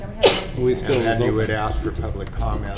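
A single abrupt sneeze bursts out near the start during a public commission meeting, and people keep talking throughout before and after it.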